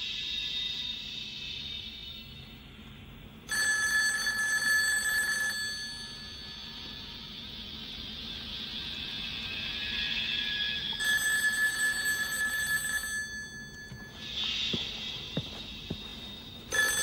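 A telephone rings in two long electronic bursts with a pause between them, fairly loud and clear against a quiet room, with no talking.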